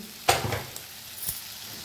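Spices for a dhaba-style egg masala sizzling in a pan, with a sharp stir or spoon clatter near the start and a few smaller scrapes, over a soft steady fry with no talk.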